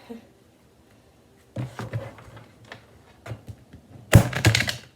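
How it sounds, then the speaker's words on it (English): Tarot cards shuffled loosely by hand, a series of soft papery slaps and riffles in irregular bursts after a quiet start, ending in a louder flurry, close to the microphone. "The messier the shuffle, the juicier the reading."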